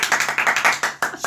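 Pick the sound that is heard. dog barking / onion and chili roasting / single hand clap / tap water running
single hand clap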